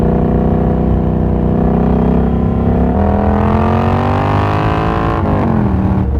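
A Triumph Scrambler 1200 XE motorcycle engine heard close and loud while riding into a tighter corner, a steady parallel-twin drone that drops briefly, then climbs in pitch as the rider rolls on, with a quick shift near the end.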